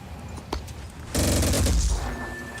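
Video game gunfire erupts about halfway through as a dense, loud burst of rapid shots lasting roughly a second, following a quieter stretch with a couple of isolated clicks.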